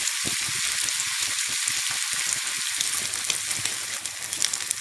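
Vanjaram fish shallow frying in oil, a dense continuous crackling sizzle, close and loud, with irregular spitting pops throughout.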